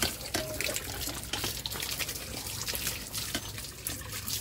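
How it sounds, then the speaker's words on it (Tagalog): Water gushes from a hand-pumped well, a steady close splashing flow with faint drips and brief knocks. "Ang ganda naman ang poso nila. Ang daming tubig."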